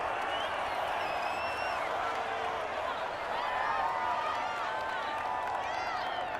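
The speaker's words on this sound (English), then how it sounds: "Well, this crowd does not like that call." A Madden 21 video game stadium crowd reacts to a penalty call with a continuous roar, whistles and jeers filling the whole stretch at steady loudness.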